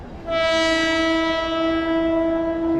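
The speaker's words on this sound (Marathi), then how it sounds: "तर आता आमची ट्रेन आलेली आहे बोरिवलीला, बघा." A loud, sustained train horn blares steadily for a few seconds close by at Borivali station, a single long tonal blast over low rumbling.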